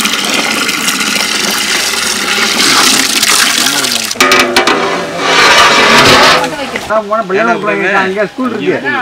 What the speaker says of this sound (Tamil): ஐநூறு பேருக்கு கல்யாண சாப்பாடு அதுக்காக இவ்வளோ பெரிய பாத்திரத்தில் தண்ணியை ஊற்றுறோம்